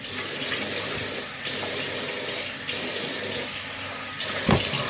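Tap water runs steadily into a sink during a face rinse in a skincare routine, close and continuous, with brief shifts in the flow as hands pass under the stream and a short splash near the end.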